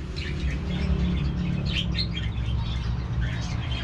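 Parrots at a pet market in Isfahan, Iran, chirp and tweet in bright, overlapping calls above a low, steady murmur of market background noise.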